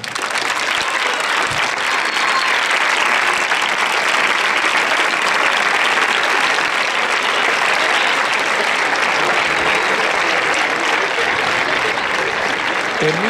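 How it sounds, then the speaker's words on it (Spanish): Crowd applause for a tennis player walking onto court at the Open Generali Ciudad de Palma del Río women's tournament, a loud, continuous wash of clapping that barely varies throughout. "Entra en pista, aplausos para la francesa Harmony Tan."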